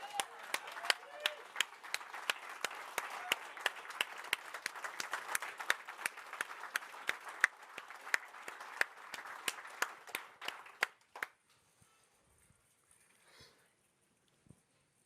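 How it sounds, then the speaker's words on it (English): Audience at a corporate procurement presentation stands and applauds, dense clapping that thins to a few scattered final claps and then falls almost silent. "Everyone stand up and give yourselves a round of applause."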